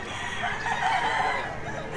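A lemon sweater bullstag rooster crows once in a strained, drawn-out call lasting about a second over steady background noise.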